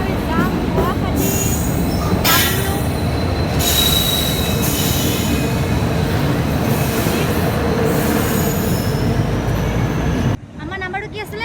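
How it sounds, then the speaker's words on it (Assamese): A passenger train bound for Guwahati rolls along railway tracks with loud, close, sustained wheel squealing and rumbling, cutting off abruptly near the end. "এইখন হৈছে আমাৰ ট্ৰেইন এইখনত আমি যাম গুৱাহাটী"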